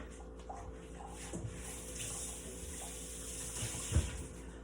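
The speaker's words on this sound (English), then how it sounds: "I need to rinse off this board because I got tea on it" A cutting board stained with tea is rinsed under a running kitchen tap, giving a steady, soft stream of water with a few faint knocks of the board against the sink, recorded fairly close and without talk.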